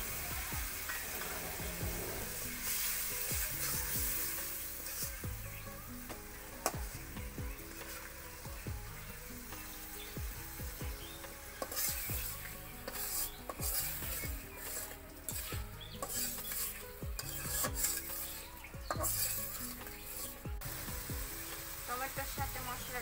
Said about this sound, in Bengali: টমেটো এখন মশলার সাথে ভালোভাবে কষিয়ে নেব।